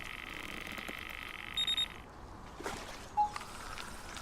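A fishing bite alarm in Fishing Sim World at a canal swim gives three short, sharp electronic beeps in quick succession over a steady high whine, followed by a couple of softer clicks and a single chirp.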